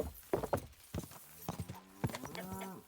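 Horse hooves clip-clopping on a road in the medieval video game Kingdom Come: Deliverance II, a quiet series of uneven hoof thuds with a short whinny-like tone near the end.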